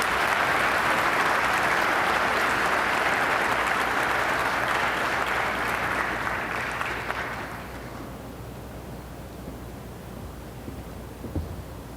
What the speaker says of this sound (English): I'd like to lead another round of applause